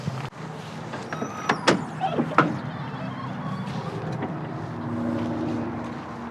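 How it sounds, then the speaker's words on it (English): Inside the door of a new Volvo VNL day cab truck, the single hood release is pulled, giving a few quick mechanical clicks and a clunk over a low, steady hum. "There's a single hood release right here inside the door."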